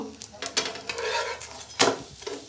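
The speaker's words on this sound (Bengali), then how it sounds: "আমি এই পিঠে তেলটা দিয়ে দিলাম। তেলটা দেওয়ার সাথে সাথে কিন্তু ওই যে ওইরকম ফুলে আসবে।" Aloo paratha fries in oil on a pan with a low sizzle under several clattering spatula knocks and scrapes against the metal, close and uneven.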